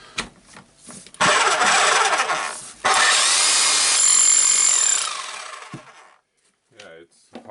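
A Hilti TE76 rotary hammer drill runs in two loud sustained bursts with a harsh, rattling hammering buzz, then stops, leaving quiet handling sounds.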